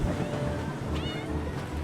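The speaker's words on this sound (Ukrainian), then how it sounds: "Це що за кіт?" A short, faint meow-like cry from a cat in World of Tanks while opening containers, rising briefly over a dense wash of background sound and music.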